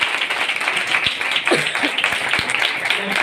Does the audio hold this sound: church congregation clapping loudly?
yes